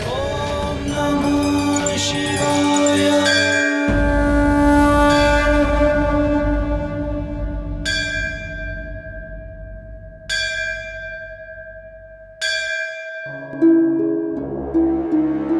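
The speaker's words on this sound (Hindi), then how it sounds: "इतनी तेज ध्वनि में घंटी बजा रहा है" Temple bell rung hard at night, sounding in loud repeated strikes whose long metallic tones ring on and decay between hits, with a dense clanging stretch early on and then spaced single strokes.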